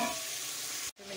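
Chicken pieces with garlic and onion browning in a pot, a steady close sizzle and frying hiss that cuts out briefly near the end, then resumes.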